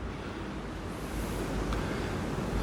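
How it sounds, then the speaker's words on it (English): Strong wind outside an old house, blowing in through open windows as a loud, steady broadband rush with slight swells and no voices. "It is very windy outside today, so I'm hoping that I don't get too much wind contamination"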